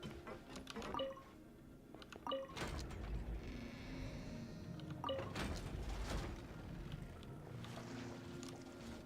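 Water level rising after a mechanism is activated in a video game, a low rushing swell with mechanical clunks and drips, moderately quiet, no talking.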